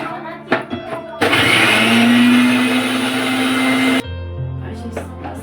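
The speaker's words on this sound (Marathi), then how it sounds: "जे आपण साहित्य घेतले आहे त्याच्यात थोडंसं पाणी टाकून मिक्सरला लावून घेऊ" A mixer grinder whirs loudly for about three seconds, blending colocasia leaves and other ingredients with a little water into aloo vadi batter, starting and stopping abruptly between quieter kitchen sounds.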